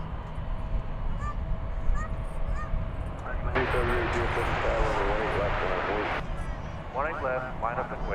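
An airliner at DFW Airport at night, a steady broad engine roar swelling for a few seconds amid constant background rumble, with voices and a radio-like chatter around it.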